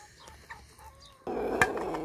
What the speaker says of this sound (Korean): 이거 장닭이구나, 언니는.